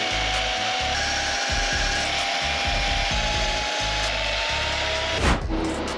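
A power saw cuts through 2 1/4 inch exhaust tubing for a custom BMW E36 M3 exhaust, running loud and steady with a rhythmic grinding buzz throughout and a sharp burst near the end.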